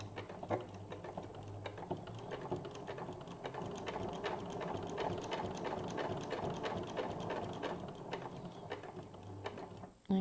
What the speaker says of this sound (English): I'm going to sew a couple of stitches